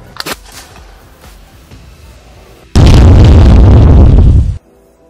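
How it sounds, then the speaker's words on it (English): A homemade potato gun fires a potato in one loud, sustained blast lasting about two seconds, following a few faint knocks and handling sounds. "he's shooting a potato out of a potato gun he made"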